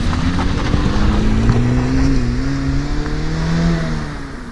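A Flyin' Miata turbocharged Mazda MX-5 ND RF drives away, its engine a steady mid-level drone with rising and falling revs and some wind noise, gradually fading near the end.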